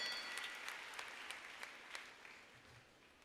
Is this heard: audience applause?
yes